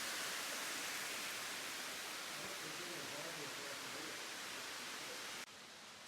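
Kondalilla Falls waterfall rushing in a steady, dense roar of broadband water noise, constant and fairly close throughout, dropping slightly at the very end.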